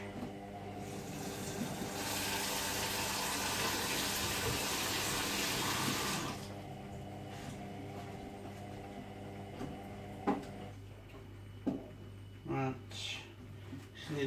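Tap water runs steadily into a kitchen sink while dishes are washed late at night during Christmas dinner prep, a strong gush for several seconds that then cuts back, followed by soft clinks and handling sounds.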